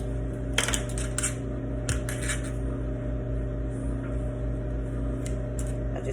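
Kitchen scissors snip through bacon slices in a few quick, close metallic cuts and clicks against a constant low appliance hum, with no one speaking.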